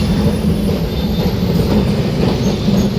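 A Kolkata tram rolls along its rails with a loud, steady low rumble and rattling wheel noise, heard up close from inside the car with no talking.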